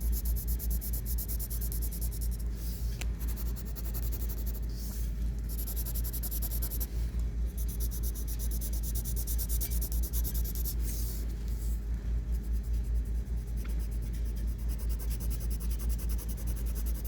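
Pencil shading strokes on paper, a soft continuous scratching of quick back-and-forth strokes over a low steady hum, with no one talking.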